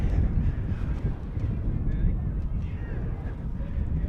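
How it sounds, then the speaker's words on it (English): Strong, gusty wind at an outdoor high school baseball field, steady 15 to 20 mph with gusts near 40, blowing as a continuous loud low rumble of buffeting across the microphone. "Winds steady 15 to 20 miles an hour, gusting close to 40."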